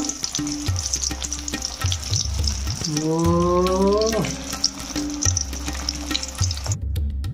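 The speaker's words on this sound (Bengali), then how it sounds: "ভাজা চলছে ইলিশ মাছ," Hilsa fish fry steadily in a hot pan, a bright continuous sizzle with scattered clinks and scrapes, while a short tonal voice-like sound rises briefly in the middle.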